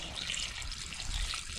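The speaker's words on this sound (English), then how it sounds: "Although I'm going to add some water." Water pours steadily into a cooking pot already at a boil, a continuous close splashing trickle that runs the whole time without talk.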